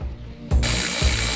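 A ratchet tightens the hinge bolts on a Mansory Rolls Royce Wraith door, giving two short, close, loud bursts of clicking about half a second apart.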